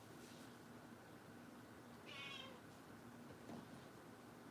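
A cat meows once, a short, mid-pitched call rising above steady room hum and faint background noise, close by and fairly quiet.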